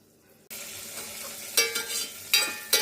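Tempering seeds, garlic and dried red chillies hit hot oil for menthi pappu, bursting into a loud, steady sizzle with a few sharp surges as they are stirred.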